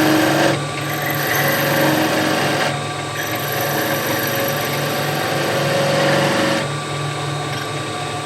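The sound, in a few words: skew chisel planing cut on wood spindle on lathe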